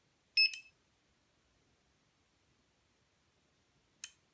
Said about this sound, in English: You actually hear the relay.